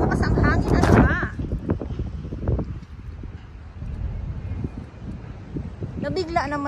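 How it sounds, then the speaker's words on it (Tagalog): Strong gusts of wind buffet the microphone outdoors by Manila Bay, a loud, continuous rumbling roar that swells and eases while someone speaks over it. "Oh my God, biglang lumakas ang hangin."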